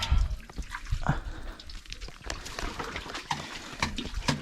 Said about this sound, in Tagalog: Malakas na ang bukal mga kasinag.